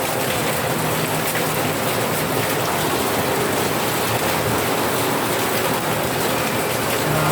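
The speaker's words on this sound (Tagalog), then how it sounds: "ang lakas ng ulan talaga" Heavy rain from Typhoon Carina pours steadily onto a home terrace, a dense, loud, unbroken hiss with no voices.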